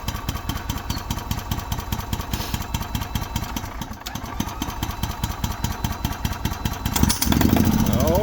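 The small gas engine of a 2018 EZGO golf cart runs on a freshly installed carburetor, chugging close by with a fast, even putter. Near the end it rises into a louder, rougher burst.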